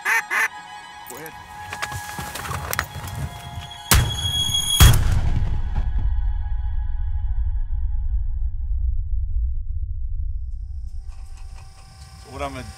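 Two sharp, loud shotgun blasts close together during a duck hunt, ringing out among duck calls and quacking before a low rumble fades into quiet.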